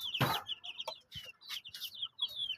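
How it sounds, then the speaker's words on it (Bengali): Chickens cluck repeatedly at close range in a handmade two-storey coop with tin sheeting, short bursts of calls overlapping one another with brief pauses between them. "এবং নিচে কিছু মুরগি রাখা হয়েছে। আর ওই সাইডে দেশি মুরগি রয়েছে"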